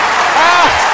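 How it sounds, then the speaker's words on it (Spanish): Applause and crowd noise at a Halloween costume contest, a dense broadband wash of clapping that swells slightly midway through the second, with a voice sliding over it. "¡Aplausos!"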